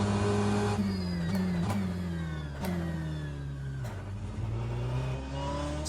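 BMW M8 race car engine in rFactor 2 at Spa, revving hard under acceleration with rising harmonic pitch and several quick gear shifts, loud and steady throughout, no talk.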